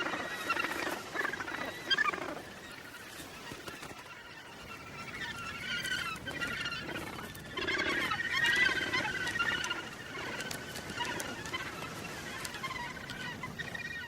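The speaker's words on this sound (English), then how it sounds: "Lawrence Rocks is the largest gannet colony in Australia" Australia's largest gannet colony at Lawrence Rocks during breeding season, a dense chorus of harsh, overlapping bird calls rising and falling in waves over faint background noise.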